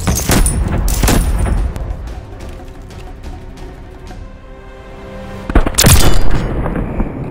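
Bursts of gunfire in Call of Duty Vanguard's Search and Destroy mode on the Hotel Royal map. Loud, sharp shots cluster at the start and again near the end, with a quieter stretch of ambient game noise between them.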